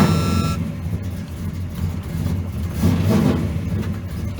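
An old truck nicknamed Silver Bullit, still hesitating even when fully warmed up, drives down the road on a test drive. Its engine rumbles steadily and up close with low mid-range drone, swelling slightly as it pulls, with no talk.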